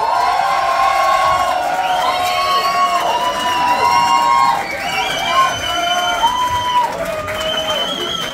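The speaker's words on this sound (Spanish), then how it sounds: "Aplausos para el grupo de Ignacio" Loud, sustained cheering and clapping from a talent show studio crowd for Ignacio's group, with shrill shouts and whoops rising over the roar.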